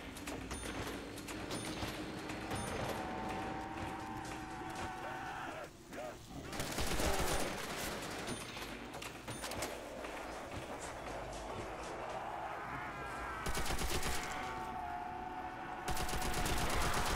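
Gun firing in a zombie video game, a dense stream of rapid shots and bursts mixed with running footsteps and game noise, loud and continuous throughout with no talk.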